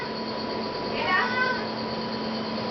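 A pet cat gives a single short meow partway through, close but fairly soft against a steady hum of background noise.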